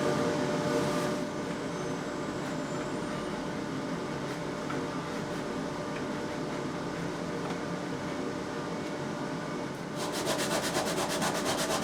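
Sanding and scraping the bindings flush along the side of an acoustic guitar body, a steady continuous abrasive rubbing that holds at an even level throughout, close up, with a brief change in texture near the end.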